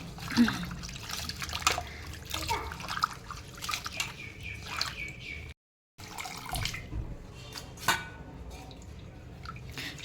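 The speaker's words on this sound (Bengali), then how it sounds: "পুদিনা পাতাগুলো একটু ধুয়ে নেব" Tap water runs and trickles over mint leaves being rinsed a second time, a steady splashing patter close by with brief drips, cut by a short silent gap midway.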